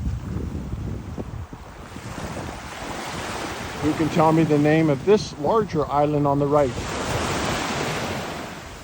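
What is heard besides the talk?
ocean waves at Kaanapali Beach, Maui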